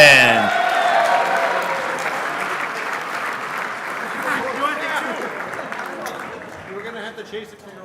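Loud audience applause at an RC racing awards banquet for the world championships, sustained clapping that gradually fades, with a voice talking over the end.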